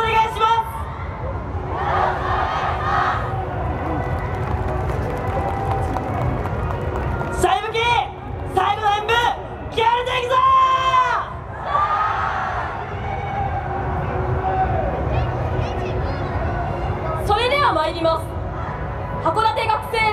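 A crowd at a Yosakoi Soran student dance performance on Odori Nishi 8-chome keeps up constant murmur and clapping, with bursts of loud shouts and cheers rising over it and voices speaking throughout.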